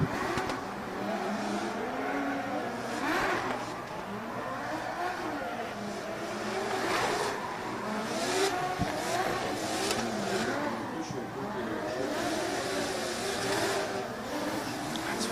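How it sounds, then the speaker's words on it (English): A drift car at an international drift championship qualifying round in Oman revs hard and smokes its tires through a corner, engine wailing and rising and falling over sustained squealing, heard from a distance with a busy crowd-like background. "We see Cherba smoking them tyres through that last corner in that last zone and bringing it over the finish line"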